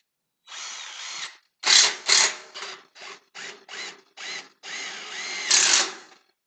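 A power drill drives screws in short whirring bursts, about nine spins of varying length separated by brief pauses, close and fairly loud with no talk.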